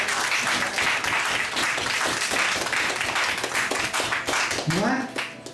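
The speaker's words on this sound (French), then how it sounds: "Applaudissez-les." An audience at a book event applauds, a loud, continuous wash of clapping with scattered voices over it, lasting the whole stretch.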